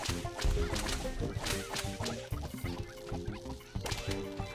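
Cartoonish chickens cluck repeatedly in Plants vs Zombies 2's Wild West stage, with busy clucks and squawks mixed into loud, dense game music and effects, without speech.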